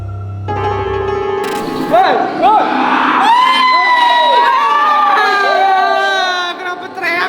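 People scream and shriek in a haunted house at a hotel on Halloween, a chaotic burst of high-pitched yells and frightened cries overlapping loudly and close.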